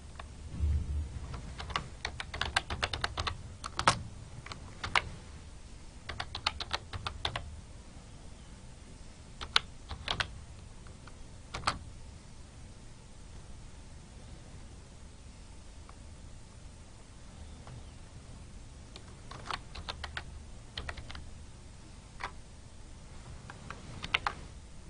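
Computer keyboard typing at a desk, bursts of quick close key clicks separated by short pauses over a faint steady hiss, with no one talking.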